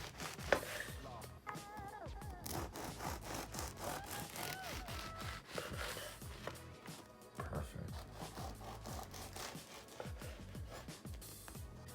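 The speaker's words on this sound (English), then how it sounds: "And now we're just going to cut it" Knife sawing through a loaf of bread into rounds for bruschetta, repeated rasping back-and-forth strokes, close and quiet, with light talk now and then.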